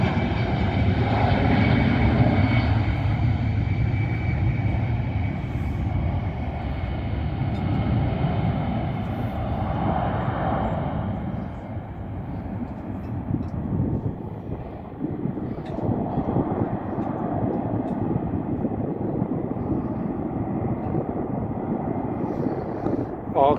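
Steady, loud jet engine roar builds and holds throughout, a broad low rumble of an airplane taking off, with faint voices underneath.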